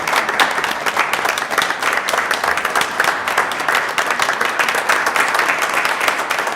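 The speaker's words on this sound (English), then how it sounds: "I think Randy deserves one more round of applause." Audience applause fills a council meeting chamber, a steady, dense wash of many hands clapping at fairly close range for several seconds without any speech over it.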